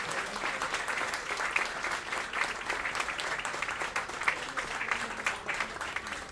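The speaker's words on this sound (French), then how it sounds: "je lui cède directement la parole sous un tonnerre d'applaudissements" A crowd at the Saga Café literary prize evening in Liège, 2014, gives Bernard Ménez sustained applause, a thick, even patter of many clapping hands lasting several seconds without a break.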